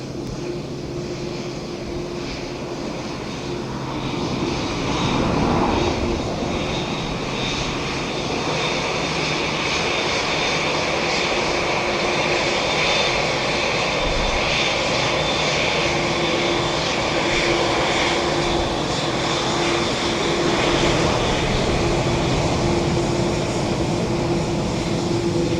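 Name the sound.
Qatar Airways aircraft at Dublin Airport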